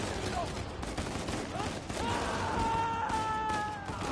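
Machine gun fire in a PS5 shooter game, bursts of shots rattling at moderate loudness with a rising tonal effect mixed in, no talk.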